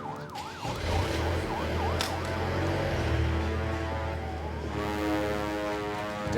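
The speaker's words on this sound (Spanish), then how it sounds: "Sigue la ambulancia." An ambulance siren wails loud and near, its rising and falling tone cycling steadily, with traffic noise underneath and no voices.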